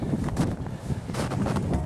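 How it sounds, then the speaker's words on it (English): Cold winter wind blows outdoors during a blizzard, a short burst of rough, buffeting rumble and hiss against the microphone with no speech. "You can hear that wind."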